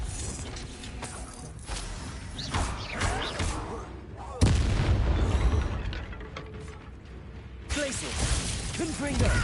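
Blasting spells burst out in Hogwarts Legacy combat, a run of heavy booming explosions with a loud impact near the middle and another toward the end, mixed with shouted voices and crackling debris.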